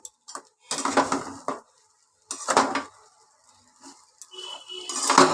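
Chow mein being tossed with vegetables and tomato sauce in a home kitchen pan, with intermittent scraping and clinking spatula strokes in separate bursts and quiet pauses between them.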